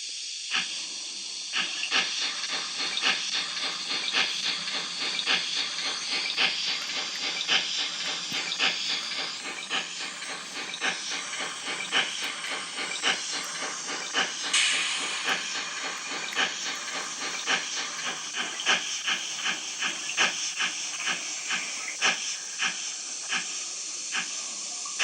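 A Bachmann ALCo 2-6-0 Mogul model steam locomotive reverses, giving off a steady, close steam hiss with rapid rhythmic chuffing pulses that run on for the whole stretch, with no talking.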